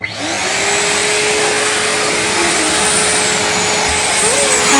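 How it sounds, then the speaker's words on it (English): A Henry hoover vacuum cleaner runs on a dirty, smelly carpet, starting with a brief thump and rising to a loud, steady motor whine and airflow roar that holds without pause. "let's turn it on and Mummy's going to do the hoover"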